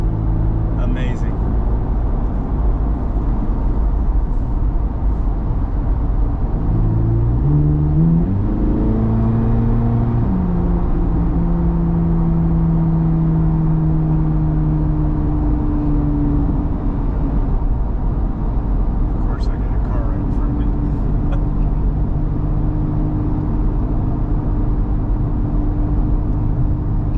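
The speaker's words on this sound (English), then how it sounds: "This thing sounds like a buzzsaw." A Chevrolet Corvette C8 Z06 drives with a loud, continuous engine drone inside the cabin, its pitch climbing through a rev and then holding steady.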